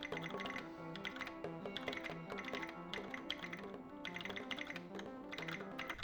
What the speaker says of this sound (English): So I tested the keyboard.